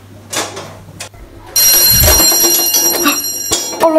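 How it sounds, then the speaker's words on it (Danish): An alarm sounds suddenly partway through, a loud sustained electronic ringing tone that persists to the end after a few quieter knocks and rustles. "För alarmen går."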